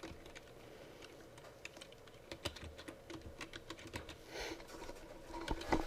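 Rapid clicking of a computer keyboard as a name is typed, a steady run of close, crisp keystrokes that speeds up into a denser burst toward the end, with no talking.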